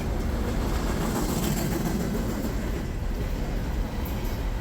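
CSX freight locomotives, former Pan Am units from the 1970s and 80s, roll past on the rails in a steady, loud rumble with a dense low roar and faint wheel noise throughout, no voices.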